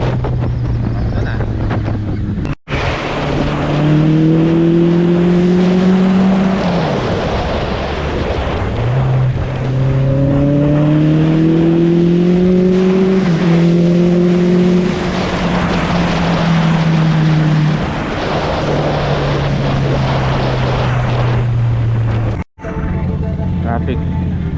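Road traffic around a rider on a Honda CB650R motorcycle along a rough road, with a steady engine drone rising and falling in pitch over continuous loud wind rush.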